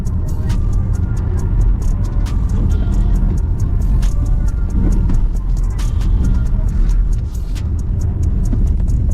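Volvo EX30 electric car accelerating hard and cornering on a track, a loud, constant rumble of road and wind noise with rapid ticking clicks running throughout and a brief dip near the end.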